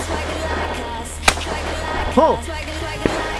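Outdoor clay target shooting: a single sharp shotgun crack rings out, followed by a second fainter report about two seconds later, with a shooter calling for the target.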